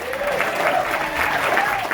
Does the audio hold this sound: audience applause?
yes